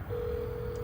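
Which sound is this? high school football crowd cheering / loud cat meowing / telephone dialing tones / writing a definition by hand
telephone dialing tones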